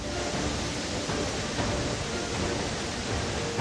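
A monsoon-flooded river in Uttarakhand rushes forcefully below a statue of Lord Shiva, a steady, dense roar of water with no breaks, loud and broad throughout.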